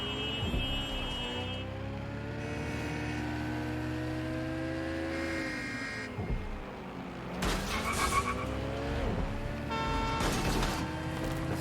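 A car in the video game Watch Dogs: Legion drives with a steady engine drone and shifting pitch, then bursts of tire screeching and skidding partway through, loud and close with no talk.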